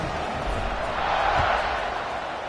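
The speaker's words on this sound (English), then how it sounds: "this crowd is buzzing after that last score" A football stadium crowd in a UCLA versus Michigan college game buzzes after a score and extra point, a steady wash of distant murmuring and cheering with no single standout shout.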